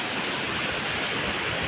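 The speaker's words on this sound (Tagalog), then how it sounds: "Tapos kaganda ng ilog oh." Clear river water rushes in Surigao, a dense, steady hiss of flowing water heard close and loud for a brief moment, with no voices.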